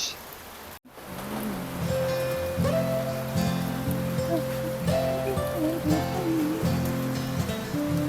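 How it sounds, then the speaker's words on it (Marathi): Steady rain hissing down on a surface, with scattered tonal sounds rising and falling over the patter. "आता लगेच पाऊस आला पाऊस दाखवते"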